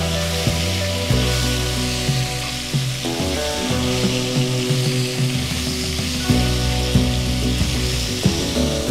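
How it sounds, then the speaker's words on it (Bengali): Pieces of chicken sizzle and fry in a pan for Lahori bhuna chicken, a steady, close crackle running the whole time beneath a layer of tonal background music. "ভাজা ভাজা করে নিলাম।"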